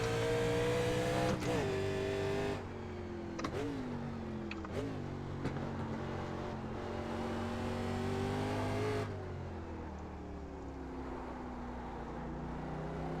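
A 1987 NASCAR Legends race car in the iRacing game runs at Road Atlanta. Its engine drones loud and close, rising and dropping in pitch through several gear changes and throttle lifts in the curves, with no speech.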